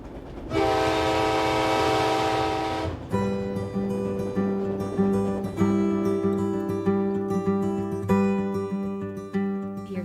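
A train sounds its horn with a long, loud blast, then rolls on with rhythmic rattling and repeated horn-like tones, close and prominent.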